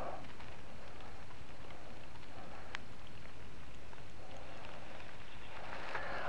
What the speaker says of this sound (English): I'm gonna get wet with this drizzle.